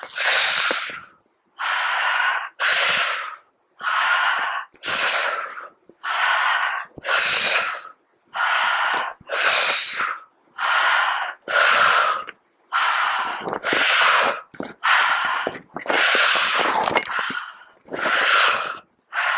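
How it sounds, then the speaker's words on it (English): A person doing breathwork takes rapid, powerful breaths close to the microphone, each forceful inhale and exhale repeating in a steady rhythm with brief pauses, loud and alone with no talk. "Powerful breaths. A little faster."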